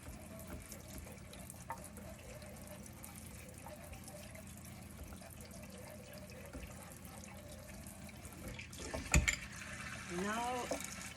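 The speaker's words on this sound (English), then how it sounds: "usually I just give them a rinse just so that all of the eggs are wet" Eggs are rinsed under a running kitchen tap in a sink, with a quiet, steady stream of water throughout. A brief clunk and some splashing come near the end.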